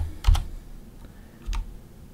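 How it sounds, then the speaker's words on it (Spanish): Someone types on a computer keyboard in a quiet room. A few distinct key clicks come in two small clusters about a second apart. "vamos a digitar editor"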